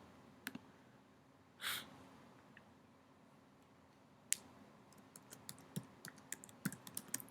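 Soft computer keyboard typing as text is entered, with sparse, faint key clicks that grow into a quicker run of taps.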